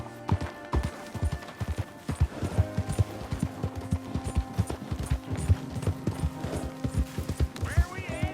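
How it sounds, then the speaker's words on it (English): Horse hooves clip-clop in a steady walking rhythm in Red Dead Redemption 2, close and crisp throughout, with game dialogue and music faintly underneath. "You got a horse? Get on it."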